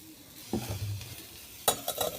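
Whole cinnamon, cloves and black peppercorns dry-roasting in a pan, with a soft scrape of stirring followed by a few sharp metallic clinks and light crackle near the end, no voices.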